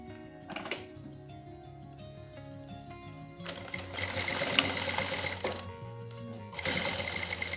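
A sewing machine stitches a binding strip onto a plastic pouch, running in steady motor-driven bursts with a brief pause and restart, close and fairly loud throughout with no talking.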